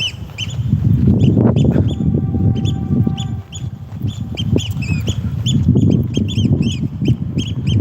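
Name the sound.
bird calling outdoors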